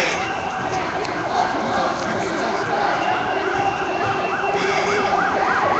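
Wailing emergency sirens approach from behind a street protest march on St. Catharines, rising and falling over a steady crowd roar with chanting voices throughout.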